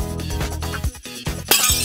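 Dalgona candy shatters as a cartoon sound effect in the animated series Teenieping. A bright, sudden crash of breaking glassy fragments bursts out near the end, after a stretch of rhythmic tonal sound.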